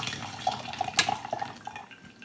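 Tea liquor from a raw Pu'erh brewing session is tipped into a sink drain, a brief trickling splash with a sharp clink of ware near the middle, fairly close and quiet, with no voices.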